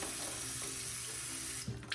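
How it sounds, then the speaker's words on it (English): Warm water runs steadily from a sink faucet while a rag is being wetted, a continuous close hiss that keeps going the whole time and is briefly disturbed near the end. "here we are at the sink. The first thing we're gonna do is just dampen our rag here"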